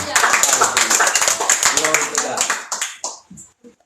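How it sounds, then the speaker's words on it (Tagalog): A church congregation claps at a Sunday worship service in a dense, sustained burst of many hands that tapers off over about three seconds, with a voice speaking over it. "Palakpak po sa Panginoon."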